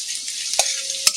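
Chopped onions fry over medium heat in a pan, a continuous bright sizzle with two sharp scraping stirs of the spoon, close and fairly loud, with no talking.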